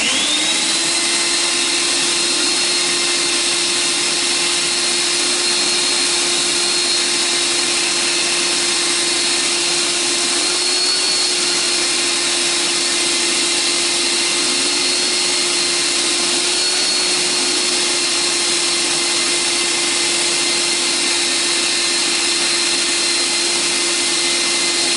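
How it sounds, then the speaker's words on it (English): A steady, loud vacuum cleaner drone with a constant whine as it sucks up metal chips from a Ford 390 engine, running continuously without pause and no voices. "we're going to vacuum up the chips"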